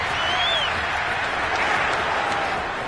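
Stadium crowd in a football video game roars steadily after a Cincinnati touchdown in an AFC title game, a dense, continuous wash of cheering and applause with a faint whistle-like tone drifting over it.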